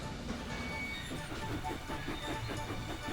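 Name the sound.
cartoon steam engine Thomas running on the track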